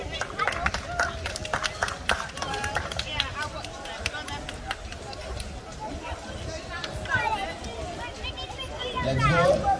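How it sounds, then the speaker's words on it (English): A group claps on Playa de la Arena beach in Tenerife, a dense run of hand claps with voices talking and calling over it. "Oh, it's okay, we can applause her anyway."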